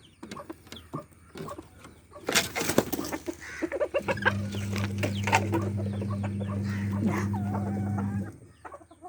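Chickens in a coop cluck and cackle up close, with a burst of agitated calls, then a steady droning hum under continued soft clucks; no speech.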